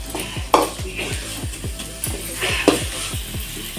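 Onion, tomato and masala sauté in a pan for pasta, a spoon scraping and stirring in a steady rhythm over a soft sizzle, close and fairly loud, with no talking.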